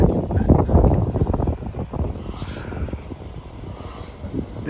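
An Indian Railways train pulls into Vedayapalem station on a platform switched at the last minute, its wheels squealing loudly and steadily against the rails over a heavy low rumble, with the clatter of the passing cars close by.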